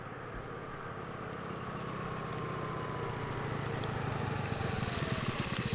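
Honda Navi motorbike approaching from a distance, its small engine droning steadily and growing gradually louder as it nears.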